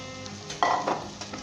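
Mutton frying in a pan with onion, ginger and garlic, stirred for a Kashmiri potato and mutton curry; a steady low sizzle with a few louder stirring scrapes, close by, no talking.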